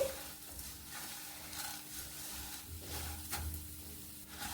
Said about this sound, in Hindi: क्रिस्पी और करारा होने तक हम चूड़े को भूंजेंगे। इस तरह से लगातार चलाते हुए